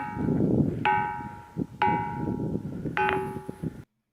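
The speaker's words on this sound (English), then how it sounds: "Some rocks sound like bells when they are hit." A rock is struck three times, each hit ringing out with a clear, bell-like metallic tone that lingers briefly over a rough scraping background.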